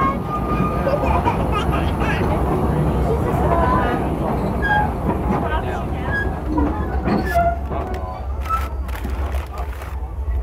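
Silver Dollar City's steam train heard from on board in 2012: a steady rumble of rolling cars with clicking and squealing wheels, and voices talking over it toward the end.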